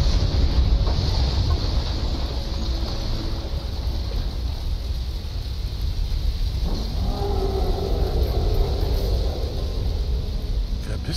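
A motorboat ride in the video game Resident Evil 7 gives a steady, dense rush of engine drone and churning water with a windy hiss, continuous and loud from start to finish.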